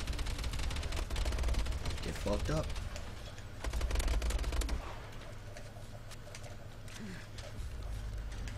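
A sentry gun firing in Call of Duty: Advanced Warfare, rapid sustained automatic bursts in dense rattling volleys that ease off midway, loud and close, with voices talking over the gunfire.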